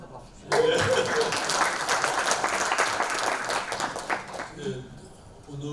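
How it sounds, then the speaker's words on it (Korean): An audience at a forum on peace in Jeju breaks into sustained applause for the mayor, loud and dense for several seconds before fading, with speech resuming at the end. "그 시장한테 박수"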